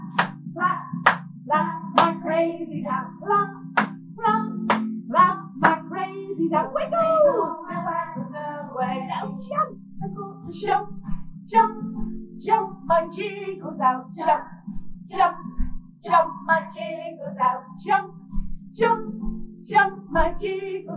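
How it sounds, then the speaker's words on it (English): Children in a reception music lesson clap sharp single beats along to a sung action song, with spaced claps punctuating a woman's singing over a steady backing hum. "Clap your crazies, clap, clap, clap my crazies out, clap."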